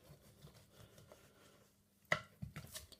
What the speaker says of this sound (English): we're going to cut straight down onto the shoulder blade